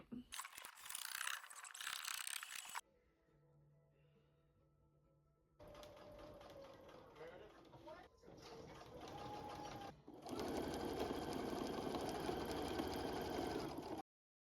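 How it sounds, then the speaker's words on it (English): A sewing machine quilting two fabrics together runs in loud, rapid mechanical bursts of stitching, broken by short pauses and a quieter hum, then speeds up again near the end. "quilting these two fabrics together, and then we'll see what's next. So quilting time."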